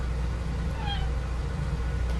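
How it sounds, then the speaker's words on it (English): A house cat gives a short meow in a quiet indoor recording studio, a single brief call rising over a steady low background hum. "That's my kitty. He's found me in my recording studio."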